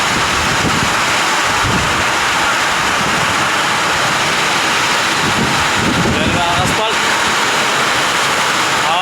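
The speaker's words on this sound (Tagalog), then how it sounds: "malakas ang ulan" Heavy rain pours down steadily, loud and dense throughout, with a brief voice in the background.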